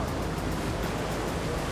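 Ocean surf breaks as a loud, steady roar of broadband wash from a set of waves rolling in, with no voices over it.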